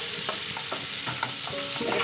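Vegetables sautéed with a little salt in a pan for a Bengali pepper chicken dish, with a steady close sizzle broken by repeated scraping stirs of a spatula.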